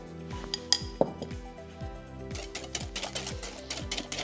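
Cream whipped by hand with a metal whisk in a bowl for a gourmet dessert, a fast, regular clinking beat of wire against the bowl, close and moderately quiet, with a few louder knocks early on.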